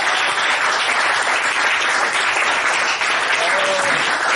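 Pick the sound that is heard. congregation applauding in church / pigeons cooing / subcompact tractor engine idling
congregation applauding in church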